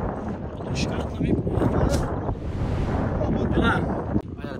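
Strong, steady wind at a kite festival in Rio das Ostras, roaring and buffeting the microphone throughout, with people talking over it.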